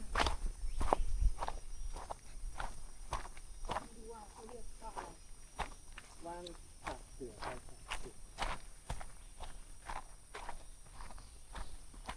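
Footsteps of people walking back along a forest trail at Khao Yai National Park visitor centre, steady repeated crunchy steps at close range, with insects or crickets faintly in the background and quiet talk in places.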